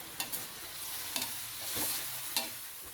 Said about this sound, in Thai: ผัดให้ทุกอย่างสุกอีกรอบนึงครับ